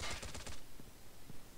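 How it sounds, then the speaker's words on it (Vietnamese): Rapid automatic gunfire from a gun in the mobile shooter game Call of Duty Mobile, a fast burst of evenly spaced shots in the first half second, then a couple of faint thuds. "Qua cái súng này mình dùng để càn quét. Bắn ngon phết."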